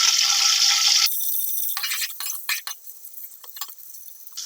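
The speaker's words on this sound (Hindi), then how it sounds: "सबसे पहले हम इसमें प्याज ऐड करेंगे" Onions dropped into hot oil for aloo pulao, opening with a bright hiss that cuts off, then light frying sizzle and a few clinks and stirs close by, with no talk.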